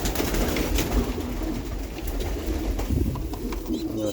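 Pigeons coo repeatedly at a dovecote where young birds peer out, soft low calls overlapping in a steady murmur with faint rustling nearby.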